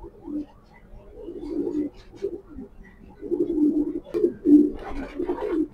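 A pair of grizzle pigeons coos repeatedly at close range, with low rolling calls rising and falling in overlapping bursts that grow denser and louder toward the end, over a faint background hum.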